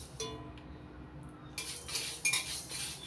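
Black mustard seeds and two dried red chillies fry in oil as a utensil stirs and scrapes the pan, giving a few close metallic clinks and a light sizzle, fairly quiet, with no talking.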